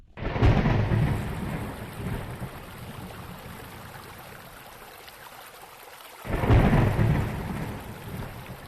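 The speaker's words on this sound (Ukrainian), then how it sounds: "шумові звуки це звуки природи, дощ, вітер, грім." Two heavy rolls of thunder boom over a steady wash of rain, one near the start and another around two-thirds through, with rain hissing throughout.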